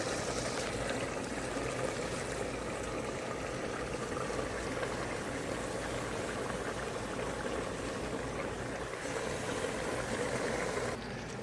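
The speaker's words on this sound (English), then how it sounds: "So at this time, I am gonna add the spinach." Spinach going into a simmering lamb and goat gravy in a pot for Hyderabadi palak gosht, a steady bubbling, sizzling hiss that runs unbroken throughout, fairly quiet and with no talking.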